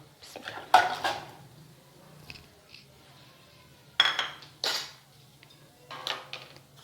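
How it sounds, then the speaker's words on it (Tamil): Jaggery being added to a little oil in a pan while making tamarind candy: a few sharp, close clinks of a metal utensil against cookware, separated by quiet pauses, with no speech. "இந்த எண்ணெயில் எடுத்து வச்ச வெல்லத்தை சேர்த்துக்கிடலாம்."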